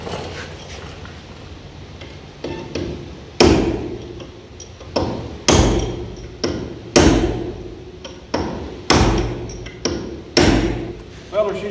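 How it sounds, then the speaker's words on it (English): Sharp metallic hammer taps on a punch land one after another at a steady, deliberate pace, each ringing briefly before the next strike, fitting a disc brake rotor on a 1940 Chevy coupe. "Let me peck on it with a hammer and a punch."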